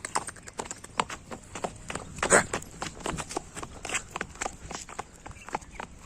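A mare's hooves clip-clop on the ground in a quick, uneven series of close, sharp knocks, with one louder thump near the middle and faint voices in the background.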